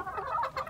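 White rooster on a farm giving short clucks in quick succession, close by and moderately loud, with no talking over them.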